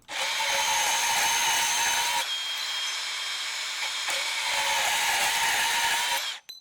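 A Milwaukee M18 FUEL compact bandsaw cuts steadily through stock with a loud, continuous high whine and buzz. The cut runs in two long passes with a short dip between them, then stops abruptly near the end.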